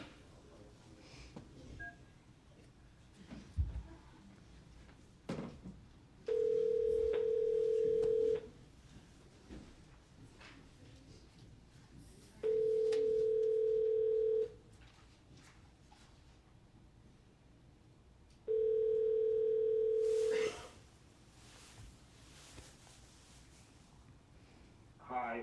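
A telephone in a courtroom sounds three long steady ringback tones, each about two seconds with pauses between, loud over a murmur of faint background voices and handling noise.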